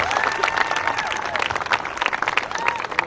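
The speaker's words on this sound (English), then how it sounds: "Give them a round of applause" A school marching band audience applauds the band camp food crew, close and lively clapping with scattered cheers and a voice or two over it.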